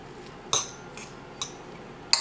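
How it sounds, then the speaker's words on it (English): A utensil clinks against a bowl three times, spaced apart, as a plant-based sausage patty mixture is stirred; short, bright, close taps over a quiet background. "So you just kind of stir it up."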